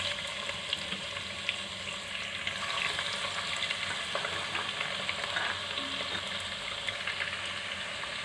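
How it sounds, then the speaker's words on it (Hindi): One large chopped onion fries in a pan with star anise and cumin for a goat trotter curry, a soft continuous sizzle with occasional stirring scrapes, no talking. "और अब हम इसमें 1 बड़ी कटी हुई प्याज डालकर फ्राई कर लेंगे।"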